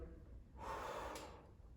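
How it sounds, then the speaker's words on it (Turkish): A single slow, deep breath is drawn in through the nose during a pulmonary rehabilitation breathing exercise, a soft, airy inhalation that swells and then tapers off, close and quiet, with no talking. "yavaş bir şekilde burnumdan, burnumdan nefes alıyorum"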